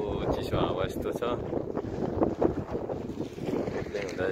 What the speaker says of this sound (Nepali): चिसो हावा यस्तो छ